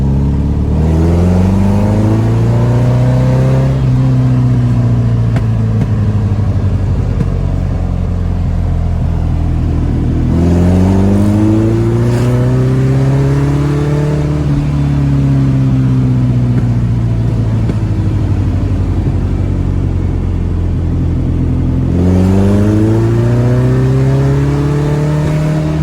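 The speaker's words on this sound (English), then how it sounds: "What I'm gonna do is just leave it in second, and we're gonna throttle it on up to 25, 30 mile an hour," A VW 1800 engine car is driven in second gear, revving up and easing off in repeated rising and falling sweeps of loud, close engine drone over about twenty-five seconds, with no talk.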